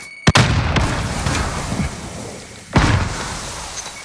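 Grenade blasts in a shooter video game, two sharp booms about two and a half seconds apart with a rumbling tail between them, loud and close with no voices.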